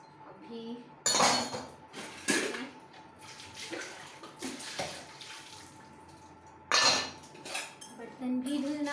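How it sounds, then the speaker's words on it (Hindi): Pots, pans and utensils clink and clatter in a home kitchen during dishwashing, with irregular sharp metallic knocks and a faint running-water hiss between them. "धुल ही रहे हैं बर्तन जल्दी जल्दी"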